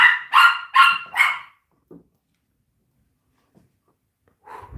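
Puppies bark four times in quick succession, loud and close, then fall silent apart from a faint yip and a brief stir at the end.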